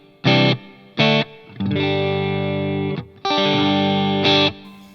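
Clean electric guitar amp tone through a Line 6 POD Go with reverb, struck as two short stabs and then two long ringing chords that sustain, loud and alone with no talk.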